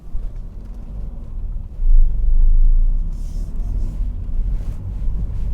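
A 2022 Mercedes Citan van with a manual 6-speed gearbox drives along, giving a steady low engine and road rumble heard from inside the cabin, with a brief swell partway through and no talk.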